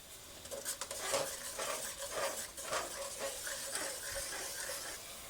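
Tomato paste stirred in a hot pan with onion over raised heat, with a soft sizzle and repeated scraping of a spoon against the pan, close and steady and with no talking.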